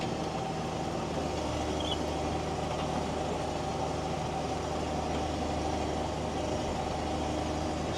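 Three-wheel-drive JCB Fastrac tractor ploughing a field, a steady low diesel drone and rumble that holds constant and close throughout, with no talk over it.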